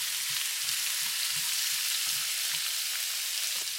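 Garlic and chopped onion frying in a pan of oil, giving a steady broadband sizzle with soft low crackles and pops that continue without a break, close and moderately loud, with no talking.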